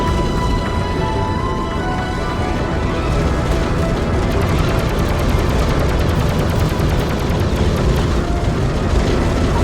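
An armed freighter's guns fire steadily in the Yager space combat game, a dense continuous barrage layered over loud engine and battle noise with no pauses.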